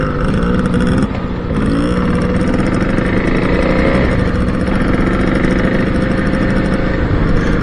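A small motorcycle engine runs steadily on a desert ride, a continuous loud buzzing drone that holds throughout with little change in pitch.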